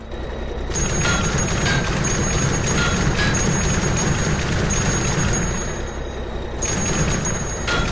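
An IMV Rhino vehicle's mounted turret firing continuously at a shooting range in a video game, a steady, dense, loud stream of automatic fire with a whining tone on top throughout.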